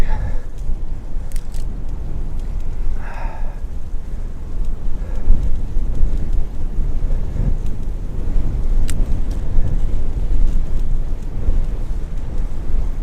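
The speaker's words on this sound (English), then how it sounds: "Big old truck." A big truck rumbles past on a cold road beside a bike lane, a broad low roar swelling from around the middle and staying loud to the end, with wind buffeting the microphone throughout.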